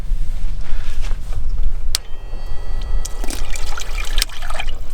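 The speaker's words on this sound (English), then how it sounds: "You got to turn the switch on and then water is going to come shooting out of this thing." Water spurts and trickles from a switched-on sprayer in short splashy bursts over a low steady background hum, with a few sharp clicks.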